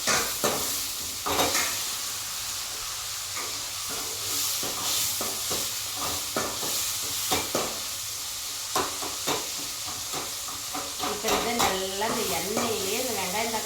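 Bitter gourd and tomato cook together in oil, giving a steady sizzle broken by repeated stirring clatter, with a faint voice briefly audible near the end.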